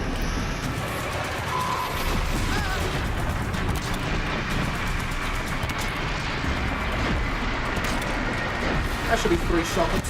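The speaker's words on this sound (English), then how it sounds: "That should be 3 shock explosions." Shock explosions in the Horizon Zero Dawn: The Frozen Wilds video game, a run of sharp crackling bursts and rumbling impacts under continuous game sound while someone talks over the action.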